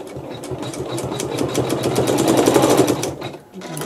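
A sewing machine stitches a quilt block in a steady, rapid whir of needle strokes that runs close and loud, then slows and drops off near the end.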